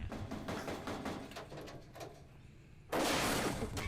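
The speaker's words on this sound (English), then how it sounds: "Just busting in the door like that" A door bursts open in an anime episode, arriving as a sudden loud crash of noise after a stretch of quieter, muffled scene sounds and dull knocks.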